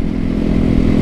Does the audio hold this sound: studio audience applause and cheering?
no